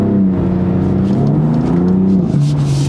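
A BMW M4 drifting on the Bilster Berg circuit, its engine holding a loud, steady droning note that wavers and dips slightly with throttle, with no break across the whole stretch.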